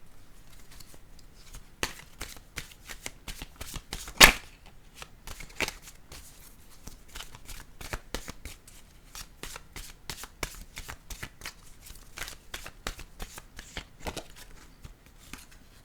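Oracle cards being shuffled by hand before one is drawn, a long run of rapid riffling snaps and flicks, close and crisp, with one louder slap partway through and no speech.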